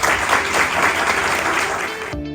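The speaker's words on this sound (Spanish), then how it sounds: "un aplauso por favor." Audience applause welcoming a performer at a Christmas gathering in a home, a steady dense clapping that runs loud for about two seconds and then cuts off abruptly.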